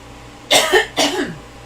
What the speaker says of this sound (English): I just cannot clear my throat this morning